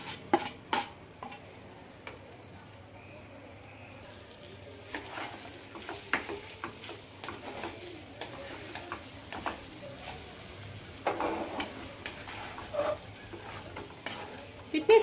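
Boiled potatoes for an aloo bhaji cook in a pan over a low flame, giving a soft, steady sizzle broken by scattered scrapes and taps as they are stirred.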